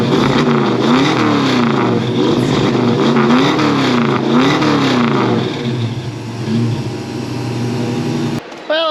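A 1967 Ford Mustang engine with a newly installed FiTech EFI system runs loud and close with a throaty, wavering idle, settles lower, then shuts off abruptly near the end.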